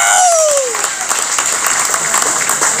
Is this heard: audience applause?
yes